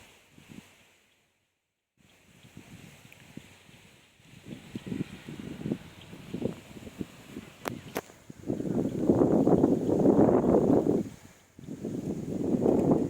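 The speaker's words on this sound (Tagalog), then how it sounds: "Ang lakas ng hangin dito." Gusty wind at Mt. Zion Memorial Park buffeting close to the microphone, building from quiet patches into a loud, steady roar with rushing bursts.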